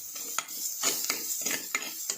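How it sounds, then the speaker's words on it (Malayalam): Shallots fry in a pan for a Kerala sardine curry, a soft continuous sizzle broken by rhythmic scrapes and clinks of a spoon stirring against the pan, close and fairly quiet. "ചുവന്നുള്ളി നന്നായിട്ടൊന്ന് മൂത്ത് വരണം കേട്ടോ"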